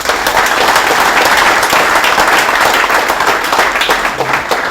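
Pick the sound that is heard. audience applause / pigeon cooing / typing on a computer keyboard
audience applause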